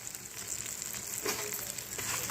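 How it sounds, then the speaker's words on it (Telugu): Green chillies and curry leaves frying in hot oil give a steady, close sizzling hiss that runs throughout, swelling slightly with a couple of brief crackly bursts as the pan is stirred. "అలాగే మనం తరిగి పెట్టుకున్న పచ్చిమిరపకాయలు వేసేసుకోవాలి. ఇవి బాగా నూనెలో వేగాలన్నమాట."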